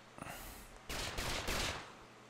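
Rapid gunfire bursts from a Fortnite-style shooter built in LittleBigPlanet 3 on PS4 rattle loudly for under a second, with faint background noise before and after.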